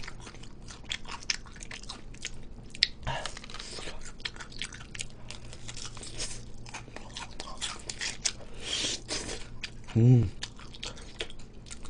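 Crunchy BBQ Golden Olive fried chicken being bitten and chewed close to the mic, with soft repeated crunches and wet mastication while a voice speaks quietly at times.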